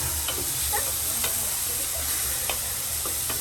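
Food sizzles and fries steadily in an oiled pan, browning toward golden, with a continuous close hiss and occasional soft stirring clicks; no talking.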